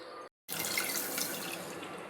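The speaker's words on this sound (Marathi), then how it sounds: "थोडं अजून 1 कप पाणी घेऊया" A cup of water pours into a pan on the stove to make sugar syrup, a soft steady splashing stream heard up close after a brief gap, with no voices.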